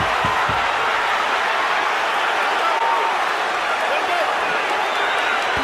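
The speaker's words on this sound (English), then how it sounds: "Crowd rocking and rolling" A boxing arena crowd roars steadily during a Ward versus Kovalev bout, the loud, dense cheering sustained for several seconds beneath a commentator's voice.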